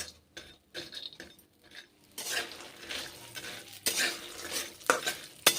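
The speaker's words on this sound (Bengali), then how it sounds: "সর্ষের তেল গরম করেছি কড়াই গরম করেছি ভেজে নিচ্ছি তাই বড়িগুলো" Lentil badi frying in hot mustard oil in a kadai, with bursts of sizzling and stirring plus clinks of a utensil against the pan, close and alone.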